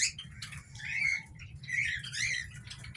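A lovebird chick from a Parblue and Fisher pair chirps in a series of close, high squeaky calls with short pauses, over a low background rumble.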